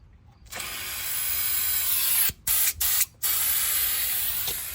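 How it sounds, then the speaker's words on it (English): A vacuum pump drawing brake fluid during a rear brake bleed on a 2009 Ford Fusion: a steady, loud, close hiss broken by three brief dropouts, with no talking. "That's the vacuum that was pulling the fluid."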